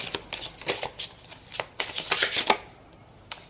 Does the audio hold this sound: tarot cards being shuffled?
yes